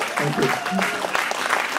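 An audience in Les Sables d'Olonne applauds at a Golden Globe Race sailing event, brief clapping over which people keep talking and calling out.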